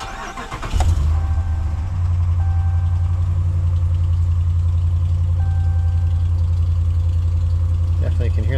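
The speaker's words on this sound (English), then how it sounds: "Definitely can hear them exhaust leaks right now." A Ram truck engine cranks and starts, then settles into a steady, loud idle with the rough puffing of exhaust leaks running throughout, heard close up.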